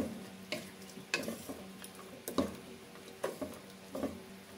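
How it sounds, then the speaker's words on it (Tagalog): Tofu and pork are stirred in a pan for tokwa't baboy, a spoon scraping in scattered close strokes roughly every half second over a faint steady sizzle. "Tapos haluin lang po natin."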